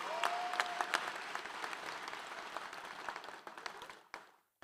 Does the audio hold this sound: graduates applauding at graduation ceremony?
yes